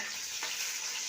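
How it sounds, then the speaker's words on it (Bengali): Paneer frying lightly with cumin in a pan gives a bright, steady, close hiss of sizzling oil throughout, with a faint stir partway through, with no voices. "হালকা করে পনিরটা ভেজে নেবো, খুব হালকা করে"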